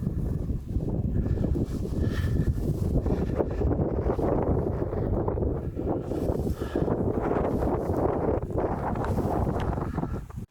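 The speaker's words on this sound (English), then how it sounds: "Cold weather and continuous wind is typical for Parang Mountains, which can be already felt" Steady cold wind in Romania's Parâng Mountains roars and buffets the microphone without pause, a loud rushing blow with gusty surges and no voices.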